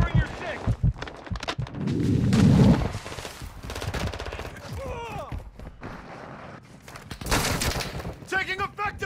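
Rapid bursts of automatic gunfire and thumping shots in a multiplayer shooter match on the Dome map, loud and busy, with radio-style callouts and voices talking over the firefight throughout.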